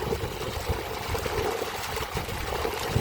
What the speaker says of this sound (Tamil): தண்ணி நல்லாவே பம்ப் பண்ணிக்கிட்டு இருக்குது